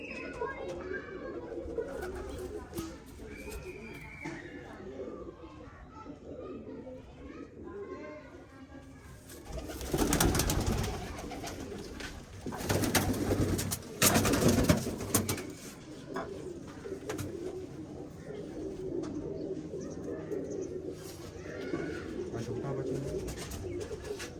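Domestic pigeons coo repeatedly at close range in a loft, producing soft throaty calls throughout, with flurries of wing flaps and rustling in the middle and someone talking over them.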